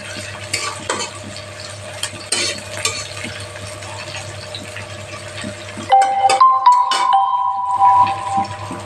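Onions frying and being stirred in a pan for a mixed vegetable ghonto, giving a steady sizzle with irregular stirring scrapes that turn louder and brighter near the end; no talking.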